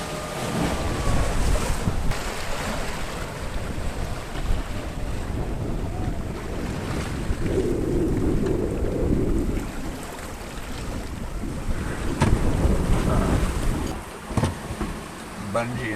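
Choppy, steep ocean waves slap and wash against a hand-steered sailboat at sea, a steady close rush of water churning under heavy wind buffeting the microphone, with surges around the middle and near the end.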